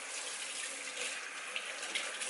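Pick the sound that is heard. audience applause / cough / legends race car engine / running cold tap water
running cold tap water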